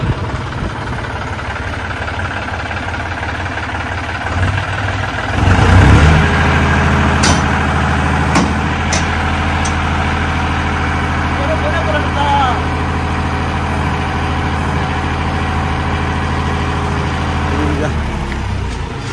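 A John Deere 5050D tractor engine idles with a low, steady, throbbing rumble, rising slightly in loudness partway through, with faint voices in the background.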